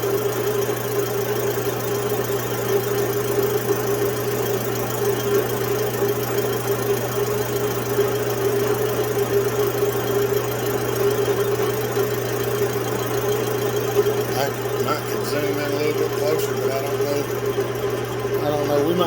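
A lathe makes a steady mechanical hum and whine while decking a Husqvarna 181SE chainsaw cylinder at a feed just under 4.5 thousandths per revolution. The tone runs continuously, with a slight change in the cut near the end.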